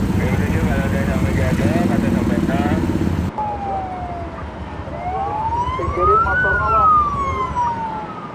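Emergency vehicle siren of an ambulance stuck in a traffic jam in Indonesia, a loud wailing tone rising and falling up close, with an earlier stretch of heavy, busy sound before the siren comes through clearly on its own.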